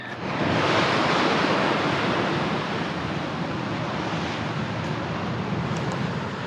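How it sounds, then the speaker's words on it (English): Steady roar of ocean surf breaking on a beach, loud and continuous with some wind noise, no voices. "So I believe this is Pinny Beach."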